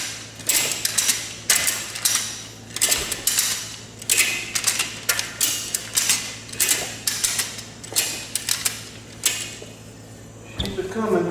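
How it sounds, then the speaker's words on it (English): Two-inch ratchet straps being cranked tight around a steel-lined safe, giving a steady run of sharp mechanical clicks in repeated bursts, fairly close and loud. "I've got some 2-inch ratchet straps on here."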